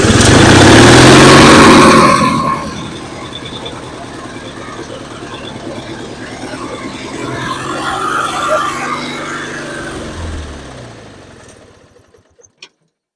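A free gasoline lawn mower engine running on fumes with no fuel flowing: loud close buzzing run for two seconds, then a weaker uneven idle that sputters, fades and dies with a few last pops.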